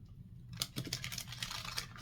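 Tarot cards are shuffled close up, a rapid burst of soft papery riffling and slapping that starts after half a second of quiet and continues to the end.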